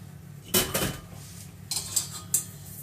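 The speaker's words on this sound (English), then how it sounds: "we're just going to sift that through into the bowl" Caster sugar, soft brown sugar and cocoa powder sifted into a bowl, heard as a few short metallic rattles and taps of the sieve against the bowl in two brief bursts over a low steady hum, with no talking.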